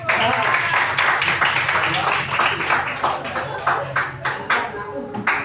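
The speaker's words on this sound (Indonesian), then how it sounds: "Yuk, tepuk tangan." A classroom of students clapping together, close and loud, the claps bunching into a loose rhythm before thinning into scattered hits near the end, with some voices mixed in.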